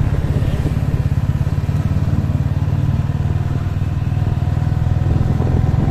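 Gasoline 135 motorcycle engine putters steadily while riding through a town street in Cacimba de Dentro, Paraíba, a loud, close, rhythmic low drone with faint street clatter around it.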